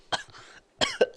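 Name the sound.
cough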